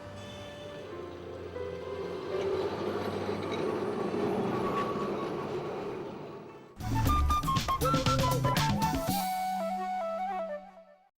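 A Kolkata tram rumbles along its rails with a steady rolling roar, then metallic clattering and squealing of wheels over track as it continues.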